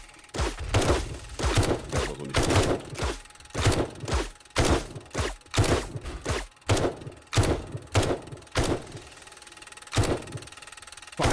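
Dart traps in 7 Days to Die firing repeatedly at a crowd of zombies, a rapid, irregular volley of sharp thunks and impacts that continues for several seconds without pause, loud and close.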